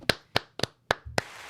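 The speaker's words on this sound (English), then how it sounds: "Round of applause." Five sharp, separate hand claps, spaced roughly a quarter second apart, close to the mic and fairly faint, with nobody talking.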